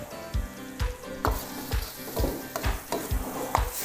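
Gapao ingredients stir-fried in a wok with fish sauce and Chinese chili oil: a close, steady sizzle punctuated by about eight rhythmic tosses or scrapes, each a sharp thump, with no voices.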